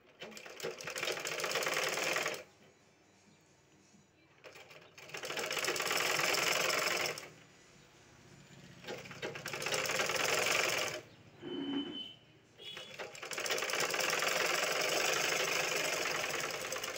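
A sewing machine runs a long seam on cloth in several steady bursts of close, rapid whirring, separated by short pauses where a person talks.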